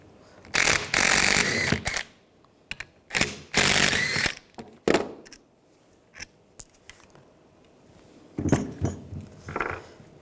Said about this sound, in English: Use a 14mm socket. Take these two bolts out.